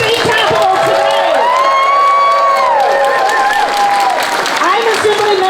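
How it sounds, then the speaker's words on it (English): Crowd applauding and cheering at a state capitol rally for disability services, with steady clapping, whoops and shouts that stay loud and close throughout, and voices calling out over the noise. "Let's give another big round of applause to all of you for coming to our state capitol today."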